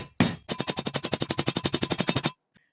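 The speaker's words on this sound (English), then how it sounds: "You basically just want to pound it as flat as you can" Hammer pounding a metal feeder hinge flat, a fast run of about twenty loud, sharp, evenly spaced metallic strikes close up, after one opening blow, then stopping abruptly.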